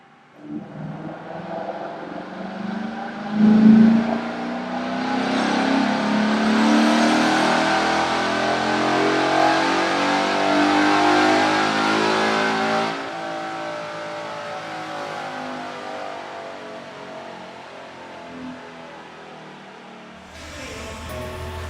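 A 2017 Ford Mustang GT with Performance Pack 2 runs a pull on a chassis dyno, its engine note climbing steadily through the revs and holding loud and close before easing back off near the end.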